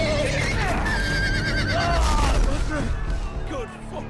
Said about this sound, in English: Love how those horses are running in formation.